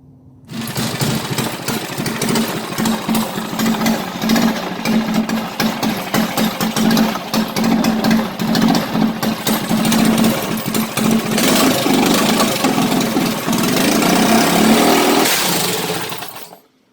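A Predator 212 Stage 4 small engine fitted with short titanium pushrods starts for the first time and runs steadily, a loud continuous close-up rattle with no voices.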